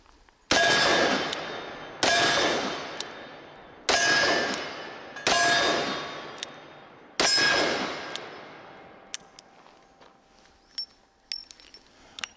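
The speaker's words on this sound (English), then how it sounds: "Using gravity, the casings are falling out by themselves overall." Spent magnum revolver casings drop out and strike a hard surface, producing five loud, ringing metallic clangs spaced a second or two apart, followed by a scatter of lighter clinks and taps.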